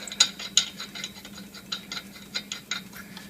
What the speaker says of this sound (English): And then hand tighten the lugs.